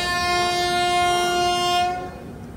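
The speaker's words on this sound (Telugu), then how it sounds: "loco Hawking" A locomotive horn honks at Bhopal junction, a single loud sustained multi-tone blast lasting about two seconds before cutting off, close by with faint background noise.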